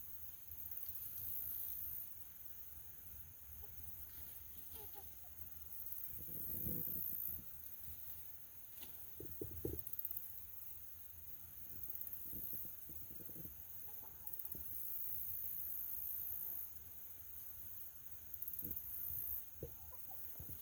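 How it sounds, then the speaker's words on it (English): Backyard chickens cluck in short, scattered bursts, some close and some farther off, over a quiet outdoor background. "These chickens can communicate, everybody."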